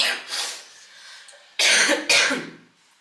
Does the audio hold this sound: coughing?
yes